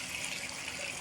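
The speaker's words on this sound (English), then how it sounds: "So now I'm just gonna splash my face with some water." Water splashing and trickling as a face is rinsed, a continuous close wash of running, dribbling water with no voices.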